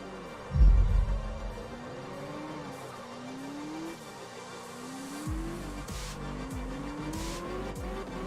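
A heavy thump opens, then a drifting car in the video game Absolute Drift revs and whines with wavering engine pitch while tires squeal, with rhythmic thuds and skids in the later part.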